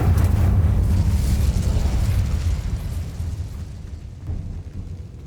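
A Bombarda blast spell in Hogwarts Legacy erupts with a loud, deep booming explosion that rumbles and slowly fades over several seconds, heard alone without talk.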